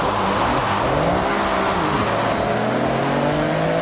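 Toyota GR Corolla in the racing game Forza Horizon 6, its engine roaring loud and constant as it accelerates hard, pitch rising and shifting through gears with no talk over it.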